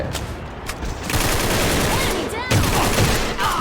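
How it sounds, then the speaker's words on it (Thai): Sustained automatic weapon fire in the online shooter AVA, loud and continuous with sharp bursts and ricochet-like whines, while a player talks over it. "ยิงมันทีละนัด"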